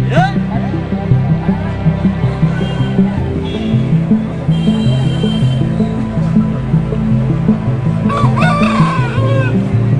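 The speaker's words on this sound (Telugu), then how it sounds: "ఇవి పెద్ద వరుస కోళ్ళు అండి, జాతి" Chickens and roosters at a busy weekly market cluck constantly, and loud crowing rises over the din, with people talking in the background throughout.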